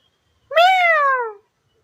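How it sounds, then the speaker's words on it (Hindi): A black cat gives a single clear meow, a rising-then-falling cry lasting under a second, close and fairly loud against near silence. "अचानक बिल्ली आ गई, वो भी एकदम काली"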